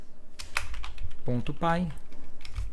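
Rapid clicking keystrokes on a computer keyboard while typing a filename for a Python file, close and continuous, with someone speaking over part of it.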